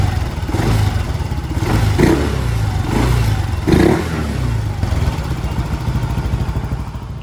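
A scooter engine fitted with a DIY oil catch can revs under throttle, a steady close mid-pitched drone with three or four swelling blips about a second apart, no talk.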